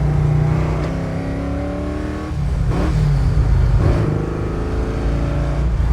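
A 1969 Chevy Camaro RS/SS muscle car engine revs hard and accelerates, its pitch climbing through gear changes with brief drops between shifts, loud and close, no talking.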